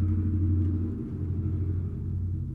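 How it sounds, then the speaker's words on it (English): A loud truck rumbles past nearby, a steady low, heavy drone that holds for a couple of seconds and eases off slightly toward the end, with no talk over it. "Loud truck, right?"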